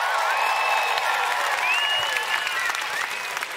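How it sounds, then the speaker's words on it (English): Crowd applause and cheering fill Margaret Court Arena at the Australian Open during a Fortnite Summer Smash event, a steady dense roar of clapping with whistles and shouts lasting throughout. "Crowd, I need some more cheers."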